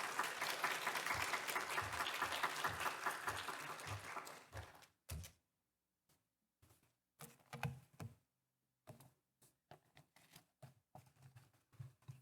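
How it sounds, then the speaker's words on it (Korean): Dense applause at a church Sunday service fills the first few seconds, then tapers off into scattered, irregular claps and small knocks with silent gaps between them. "우리 박수로 환영하겠습니다."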